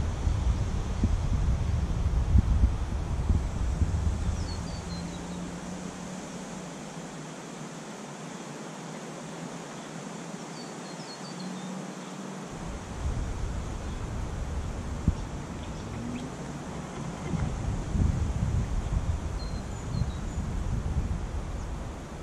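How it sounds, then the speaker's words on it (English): Wind gusting by the North Pine River, a broad steady rush with low rumbling buffets that ease for a few seconds midway, then build again, heard alone without talk. "That wind."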